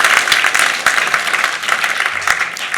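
A church congregation at a New Year's Eve service bursts into dense, lively applause that stays fairly loud throughout the short stretch.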